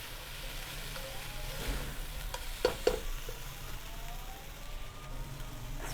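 Cooked rice and scrambled eggs stirred in a hot frying pan, a steady close sizzle with a few sharp scrapes and taps of the utensil against the pan.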